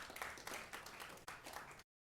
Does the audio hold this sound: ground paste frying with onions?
no